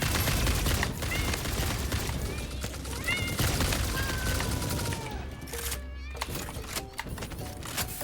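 Sustained rapid gunfire in Satisfactory crackles in dense bursts over several seconds, loud and close, easing briefly before more shots, with a voice talking faintly beneath.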